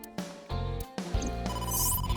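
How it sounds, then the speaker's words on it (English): Electronic phone ringtone in the video game AI: The Somnium Files, a loud synthetic melodic ring playing in bursts with a sustained tone at the end, no voices. "Phone call?"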